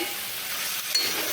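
Washed red lentils stirred into goat fat and spices frying in a pan, a steady close sizzle and hiss with a brief scrape of stirring near the end.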